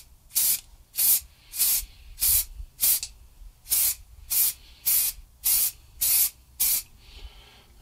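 Aerosol clear coat sprayed over a logo decal on a Telemaster guitar headstock, in about a dozen short, evenly spaced hissing bursts from zigzag and up-and-down strokes, close and loud with brief pauses between passes.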